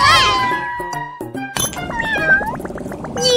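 Cartoon cat meowing in a children's math game about making blueberry jam: several bright, wavering meows under cheerful game music and a few sparkly chimes.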